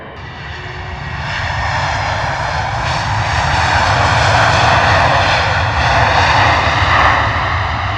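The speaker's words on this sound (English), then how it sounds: "just Wizz Air A321neo coming in hot from Rome this morning. Lovely sound as it's on its approach" A Wizz Air A321neo airliner on landing approach passes overhead with a loud, steady jet engine roar and a rising whine that swells and holds, with no voices.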